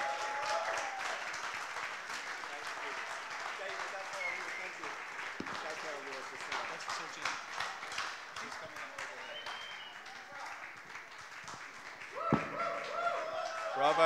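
Applause carries on through an awards ceremony as a winner is called up, a steady patter of clapping under a presenter's voice, with a short louder burst near the end.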